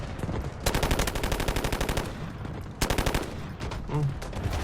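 Automatic gunfire from a shooter in the mobile game Delta Force Mobile, rattling in two fast bursts separated by a short lull, with quieter in-game noise between them and no talking.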